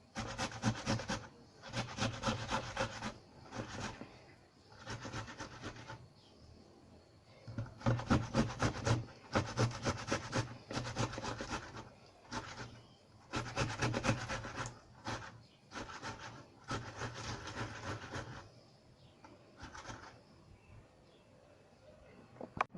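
Halved, fleshy tomatoes rubbed against a grater: close, rhythmic rasping strokes in repeated bursts separated by short pauses, with no talking.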